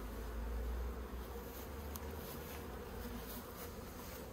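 Honey bees swarming around an open top-bar hive in Australia, a steady dense buzz drone that holds at an even level throughout with no talking.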